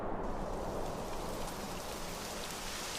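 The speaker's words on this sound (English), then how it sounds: "It would have to go and start raining, wouldn't it?" Rain falling in the video game Dragon Quest XI: a steady, dense, moderately quiet hiss of rainfall with soft patter, continuous and unbroken throughout with no voices.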